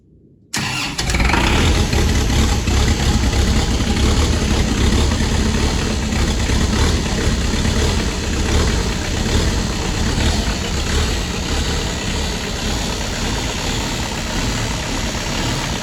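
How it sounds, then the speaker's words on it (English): A Kubota backhoe's diesel engine cranks and catches within a second on a cold start, then runs at a loud, steady, rough idle close by with a knocking clatter. "So we'll fire the tractor up, let it run for a little bit"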